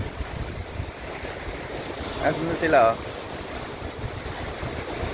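Ocean waves wash in at a beach at low tide, with a steady roar of surf and wind buffeting the microphone, and a short louder splash near the middle as a voice speaks briefly.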